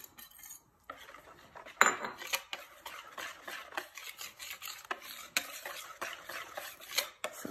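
An ube tikoy mixture is stirred in a bowl, close rhythmic scraping and clinking of a utensil against the bowl in repeated strokes, quiet, with no talk.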